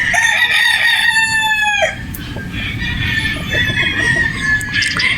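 A Boston Roundhead brood stag rooster crows loud and close, one long harmonic call lasting about two seconds, followed by softer clucking and farmyard background.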